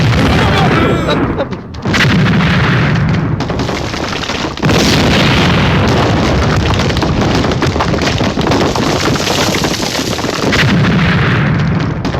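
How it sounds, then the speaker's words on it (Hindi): Loud, sustained dynamite blasting at a stone quarry in an action movie, with heavy rumbling booms that fill the whole stretch. "पत्थर की खान से आवाज आ रही है, डायनामाइट फटा।"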